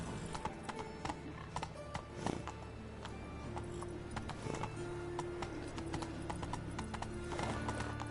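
Horse galloping in The Witcher 3, a rapid rhythmic clip-clop of hooves close up with a short whinny, running steadily throughout without speech.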